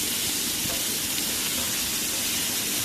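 Poa fish fry lightly in a pan, a steady loud sizzling hiss with small crackles throughout, close and unbroken.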